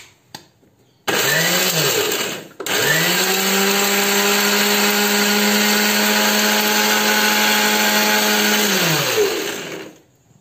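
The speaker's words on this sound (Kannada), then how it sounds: "ಇವಾಗ ಇದು ಡ್ರೈ ಮಿಕ್ಸಿ ಅಲ್ವಾ, ಮಿಕ್ಸಿ ಮಾಡೋಣ." A kitchen mixie grinds a dry homemade garden fertilizer mix with egg. A short whirring burst is followed, after a brief pause, by one long, loud, steady motor whine that winds down at the end. No talking is heard.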